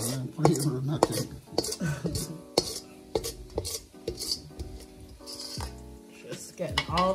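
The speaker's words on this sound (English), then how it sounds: "Scraping my bowl." A utensil scrapes and clinks around a bowl while mixing saltfish fritter batter, irregular scraping strokes and knocks heard close, with people talking intermittently over it.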